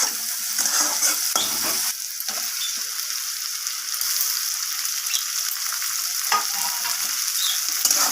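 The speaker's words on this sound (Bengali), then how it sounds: "পেঁয়াজের সাথে টমেটোটাকেও আমি ভেজে নেব" Tomatoes and onions fry in a pan for a fish curry with potato, pointed gourd and eggplant, giving a steady, loud broadband sizzle with a few spoon scrapes and brief dips in the hiss.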